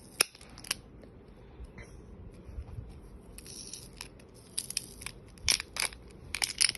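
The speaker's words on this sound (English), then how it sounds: "Opening up the pen." A Wacom drawing tablet pen case being opened, giving scattered close plastic clicks and light crackles, with a few sharp snaps near the start and again toward the end over a faint background hiss.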